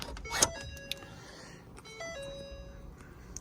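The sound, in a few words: Ford F250 truck being switched on to accessory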